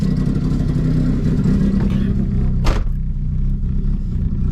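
A Nissan S13 sports car engine idles with a steady low rumble, then revs briefly with a sharp rising burst before settling back to a throaty idle.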